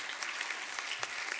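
Audience applause for a performer at a music competition in Ozieri, a short burst of steady, fairly quiet clapping from the crowd.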